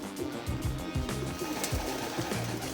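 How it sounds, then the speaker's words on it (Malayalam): Pigeons on a farm coo in repeated low, throbbing calls, close and overlapping, in a steady rhythm over a faint background hum. "ഓരോ പ്രാവുകളുണ്ട്."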